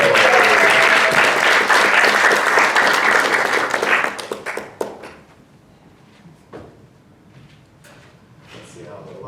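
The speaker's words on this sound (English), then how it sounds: "Let's give her another round of applause." Audience applause for a storyteller at a library story slam, a dense and fairly loud burst of clapping for about four seconds that thins into scattered claps and then quiet room noise.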